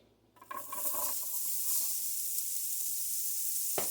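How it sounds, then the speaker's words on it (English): Onions dropped into hot bacon grease in a skillet: a burst of sizzling rises quickly after a short quiet start, then holds as a steady, close, bright hiss with a few soft clatters at the start and no talk. "I had the heat still on because I'm going to go ahead and cook up some of these onions"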